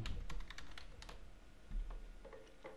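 Quiet typing on a computer keyboard at a Windows PC, a brief run of light, uneven key taps close by with no voices.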